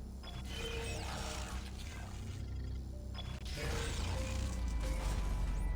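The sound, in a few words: machine in a room activating, from a video game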